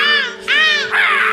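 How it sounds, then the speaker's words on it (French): Harsh, rasping caws of crows, three drawn-out calls in a row, loud and close over a steady background hum. "les corbeaux maléfiques"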